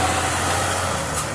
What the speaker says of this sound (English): This truck roll around the street every day.